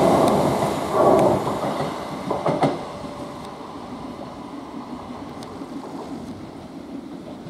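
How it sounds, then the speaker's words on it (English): A Southern Class 377 electric multiple unit passes through Ford station on its way to London Victoria. A loud rushing rumble peaks early, then fades into a steady receding roar with faint rail clicks. "That train's running non-stop between Barnum and Horsham now, that train."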